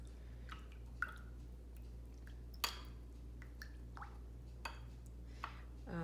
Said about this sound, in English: Now I am gonna rinse.